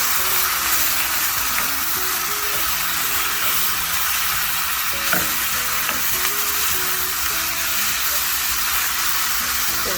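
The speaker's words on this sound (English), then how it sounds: "And let it saute for maybe 2 minutes." Onion chutney ingredients sizzle and fry in a hot pan with a constant bright hiss, a few stirring knocks and scrapes standing out near the middle as tamarind goes in.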